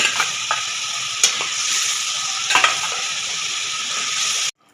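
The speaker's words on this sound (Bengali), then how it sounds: "এবার আমি কাতলা মাছগুলো এক এক করে দিয়ে দিচ্ছি" Katla fish pieces go one by one into a boiling yogurt-based curry gravy, bringing a continuous loud bubbling sizzle with a few sharp pops and splashes before it cuts to silence at the end.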